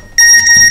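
A mobile phone's text alert rings out close and loud: a short, bright electronic beep with clear tonal pitches, lasting under a second, heard alone.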